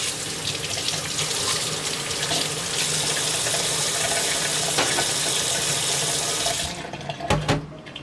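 Warm water runs steadily from a tap while a jam jar is washed in the sink, a continuous close splashing hiss that cuts off near the end, followed by a few brief clinks.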